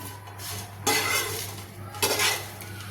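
Toasted pav bread pieces get turned in a pan with a utensil, giving two short scraping, clinking bursts over a soft steady sizzle.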